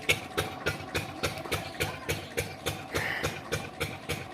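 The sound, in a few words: engine running a water pump on a farm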